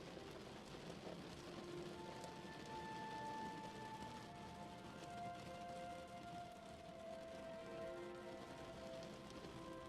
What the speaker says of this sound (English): Only the sound of the rain at night as you lay in your bed can be so comforting.